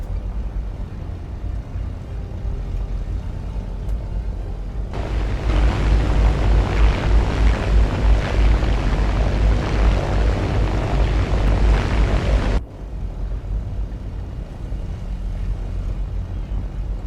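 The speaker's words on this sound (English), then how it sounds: "2 P-51s escorting 2 B-17s." Piston-engine fighters and heavy bombers in a video game, two P-51 Mustangs escorting two B-17s, give a loud, steady broadband engine roar that swells in for several seconds and then cuts off sharply, leaving a quieter low drone.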